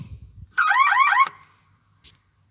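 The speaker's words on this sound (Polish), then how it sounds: "Dźwięk alarmu zamiast klaksonu." A warbling electronic car alarm siren, fitted to a Fiat 126p in place of its horn, sounds loudly for under a second, cycling up and down rapidly, then cuts off abruptly into silence.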